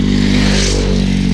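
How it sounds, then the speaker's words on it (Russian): Motorcycles passing close by at a motocross event in Latvia, a loud steady engine drone with a rising, rasping swell as a bike goes past. "Рядом проезжающие мотоциклы, пылящие."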